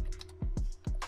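A few keystrokes on a computer keyboard at a Windows 11 computer, heard as soft, dull taps close by in an otherwise quiet room.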